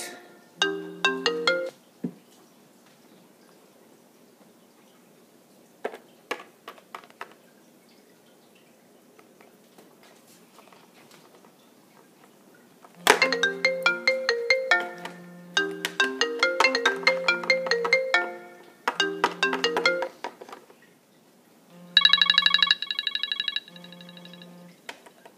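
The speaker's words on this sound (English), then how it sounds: "Is that your phone, Lizzie?" A mobile phone ringtone plays a bright, plinking melody, starting briefly, pausing, then repeating in louder looping phrases over about ten seconds, alone without talking.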